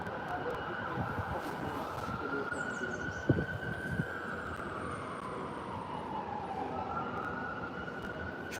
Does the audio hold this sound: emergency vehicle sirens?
yes